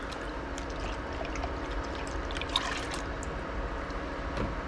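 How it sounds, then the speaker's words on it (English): Colored dye poured into a pot of water for kettle-dyed yarn, a steady soft trickle and liquid splashing that runs through the whole stretch, fairly close, with no voices over it. "we are going to pour the color in."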